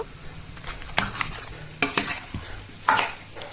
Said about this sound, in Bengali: আমি এটা একটা চামচের সাহায্যে মাংসটা আমি মেখে নিচ্ছি